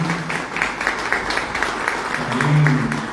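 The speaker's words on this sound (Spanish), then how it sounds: "un aplauso de nuevo para Monseñor y su comitiva" An audience at a tribute ceremony claps for a monsignor and his entourage, a steady moderate patter of hands lasting a few seconds.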